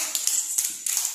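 Young children in an anganwadi preschool class clap together in quick, light bursts. The claps come in several short clusters, close and fairly soft, with no voices over them.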